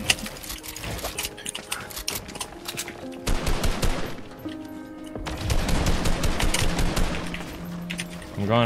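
Rapid bursts of automatic gunfire in the battle royale game Fortnite, with repeated sharp rattles and pauses between volleys. A voice talks intermittently underneath.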